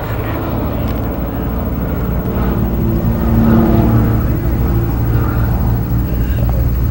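A British Tiger Moth biplane's 6.2-liter inverted four-cylinder, 145-horsepower engine running, a steady low droning hum with a slight swell in loudness partway through, close by and continuous without speech.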